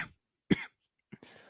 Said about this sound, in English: I'm sorry for coughing into the mic there.